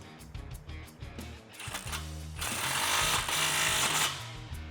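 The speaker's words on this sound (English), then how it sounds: "Let's tighten down the clamp." A ratchet or power tool tightens an exhaust clamp on a 2015-2017 Mustang GT Roush cat-back system, a close buzzing mechanical whir that rises louder midway and holds steady before easing off.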